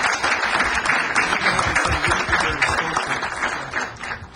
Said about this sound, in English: Everybody give another big round of applause.